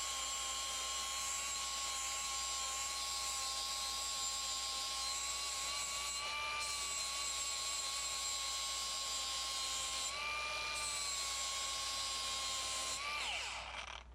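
A Toro 60V commercial mower blade being sharpened on a 40 grit grinding wheel: a steady, high whining bench-grinder drone runs throughout, shifting pitch slightly as the blade is touched to the wheel, then spins down at the end.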